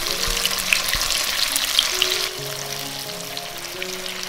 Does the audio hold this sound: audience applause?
no